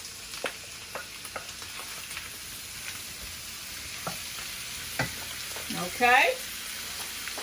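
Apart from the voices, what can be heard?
shrimp sizzling in a pan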